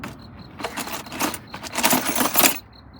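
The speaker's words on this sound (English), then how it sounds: "Oh, these are the Charger keys." Original Mopar keys for a 1967 Dodge Charger jangling in a hand, bright metallic clinks in several loose bursts over a few seconds, close and clear.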